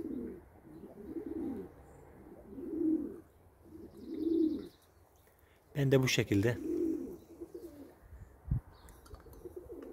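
Pet pigeons coo in slow, repeated low throaty phrases nearby, each call swelling and fading. Someone talks briefly in Turkish partway through, and a few short sharp knocks sound near the end.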